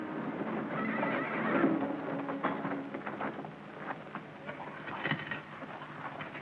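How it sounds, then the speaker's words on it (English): Horses whinny loudly near at hand in a 1951 Civil War-era film scene, with a brief patter of hooves clip-clopping in between, and no talking. "Jerry, take the horses back to General Johnston's camp."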